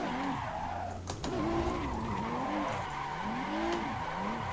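A car drifting in the Assetto Corsa racing simulator, with tires squealing in continuous wavering howls over a droning engine, plus a brief clicking near the start, no talk.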